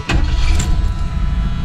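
A Lincoln car engine cranking and catching almost at once, then settling into a loud, steady low idle, heard up close.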